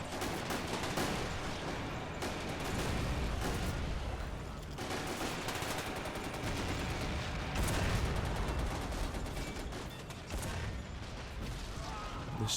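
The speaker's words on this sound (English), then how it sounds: "The mortars are still firing." Mortar rounds and rifle and machine-gun fire from a Men of War Assault Squad 2 battle during a Russian tank and infantry assault on a Manchurian city, a continuous loud barrage with dense overlapping shots and booms throughout.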